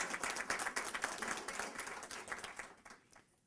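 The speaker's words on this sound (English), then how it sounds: "That deserves a round of applause." An audience at a county government announcement about police leadership breaks into applause, a faint, steady patter of many hands that fades out after a few seconds.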